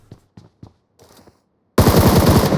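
Several sharp, separate distant shots come first, then loud, close, sustained automatic fire from AK and M4 rifles in the PUBG Mobile video game.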